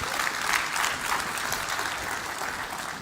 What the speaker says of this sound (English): Round of applause for that team.